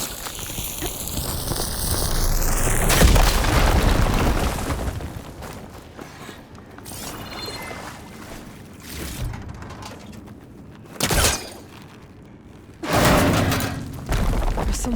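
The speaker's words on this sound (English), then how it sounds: "Should be able to blow up that fire gleam." A fire gleam explosion in a tunnel in Horizon Forbidden West: a swelling sweep gives way to a heavy boom and rumble, then a few separate thumping bursts echo over a low background.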